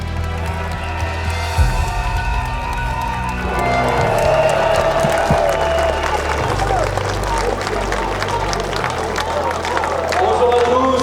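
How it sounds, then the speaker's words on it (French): Crowd at an outdoor Frexit rally in heat claps and cheers, the applause swelling after a few seconds into a dense, continuous roar with babble and a voice over it. "Applaudissons-les une nouvelle fois"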